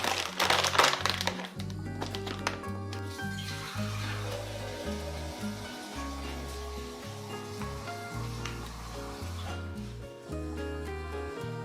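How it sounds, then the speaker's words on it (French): One litre of water is poured into a jar for a kefir preparation with dried figs, a splashing, trickling flow heard close up over background music. "Et je termine par remplir donc avec 1 litre d'eau."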